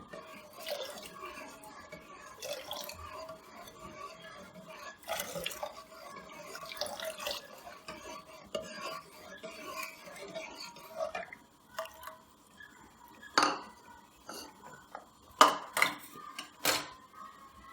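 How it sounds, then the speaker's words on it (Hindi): Cornflour slurry poured slowly into chicken corn soup in a pot while stirring: quiet liquid sounds with a spoon repeatedly clinking and scraping against the pot, sharper knocks toward the end. "कॉर्नफ्लोर जो पानी में हमने हल करके मटीरियल तैयार किया है वो आहिस्ता आहिस्ता डालें और हिलाते रहें।"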